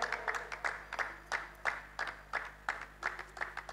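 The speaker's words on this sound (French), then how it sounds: "Nous acclamons très très très très fort." Church congregation at a youth anniversary gathering applauding to welcome a deputy leader, rhythmic unison clapping in steady beats, moderately loud and slightly distant.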